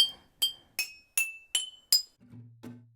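A metal kitchen spoon strikes glass jars of different sizes, six bright clinking dings in steady succession at varying pitches, followed by a couple of duller knocks.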